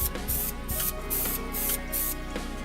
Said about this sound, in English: I'm going to do one coat with the red, 2 shades of black to give it that smoked out look.